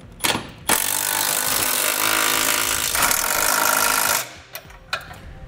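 Power tool snugging down trailer hitch receiver bolts on a vehicle frame, a loud continuous whirring buzz lasting several seconds, bracketed by short bursts and clanks before and after.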